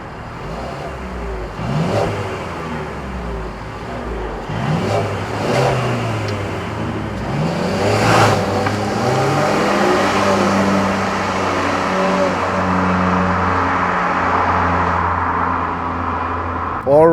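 A 2016 Mercedes-Benz CLA 250 4MATIC Coupé facelift accelerates onto the Autobahn, its engine rising through several gear changes heard from inside the cabin, with a voice talking over parts of it.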